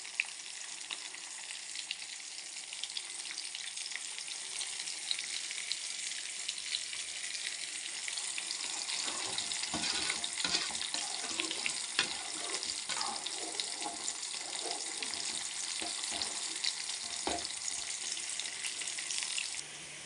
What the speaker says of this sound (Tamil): வெங்காயத்தையும் போட்டுருவோம். நல்லா செவக்கிற அளவுக்கு ஆனில் வச்சு வதக்கும்.